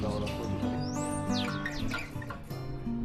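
Sparrows chirping in the early morning, with several bright, overlapping tweets and rising calls over a dense, steady background of tonal hum, close and fairly loud.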